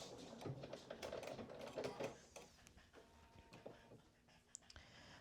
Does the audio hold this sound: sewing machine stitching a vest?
yes